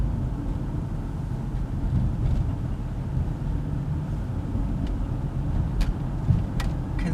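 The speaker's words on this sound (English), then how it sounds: "Actually, I find that there's quite a bit of traffic." Road traffic rolls through a Montreal street in a steady low rumble, with occasional louder passes of vehicles nearby and no voices.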